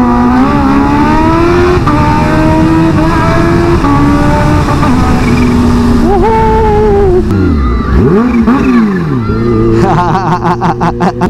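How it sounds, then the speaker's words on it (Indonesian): A loud Kawasaki ZX-25R motorcycle engine drones steadily and then revs up and down in sharp swoops, with rapid throttle blips near the end; no talking. "Ini kita geber terakhir buat kalian guys ya."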